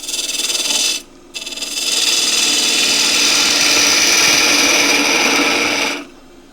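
A loud, steady scraping hiss as a lathe tool takes a peeling cut across the end of a punky box elder blank, with a brief gap after the first second before the cut resumes and runs evenly until it stops.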